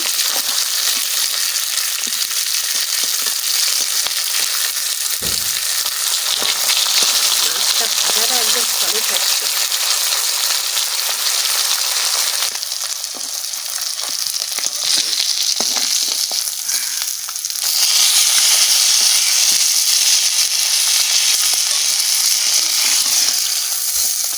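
Fish fries in hot oil, a loud, dense, continuous sizzle and crackle up close that swells louder near the end, with faint stirring and no talk.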